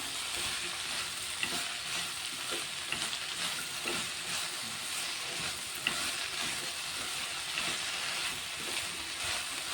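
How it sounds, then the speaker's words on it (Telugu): Lady's finger and tomato curry being stirred in a pan, with a steady close sizzle of frying under soft, repeated scraping strokes throughout. "ఇప్పుడు ఇదంతా అయితే ఒకసారి కలిపేసుకుంటున్నా"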